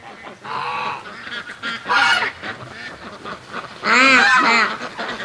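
On a farm, a goose gives a few loud, close honks in uneven bursts with short pauses between them.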